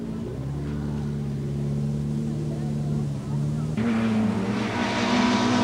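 A Ferrari rally car on a stage of the 1992 Tour of Mull: a steady, droning engine note that shifts pitch as it changes gear partway through, under a commentator's voice.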